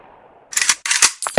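Gunshots ring out at a shooting range in the mobile game Kick The Buddy: three sharp, loud bursts in quick succession follow a quiet stretch, close and dry with little tail.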